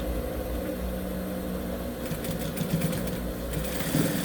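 A sewing machine stitches the finished edge of a fabric cake cover, running as a steady, close mechanical whir that picks up a faster, rattling texture partway through.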